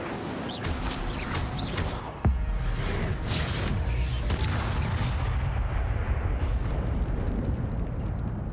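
Incendio fire spell cast in Hogwarts Legacy, a sharp burst followed by a loud roaring, crackling whoosh of flame that fills the whole stretch.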